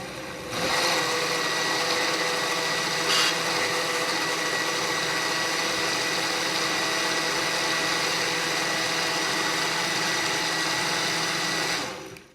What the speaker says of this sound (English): I just put it in a blender. That's all there is to it, and I'm going to turn it on.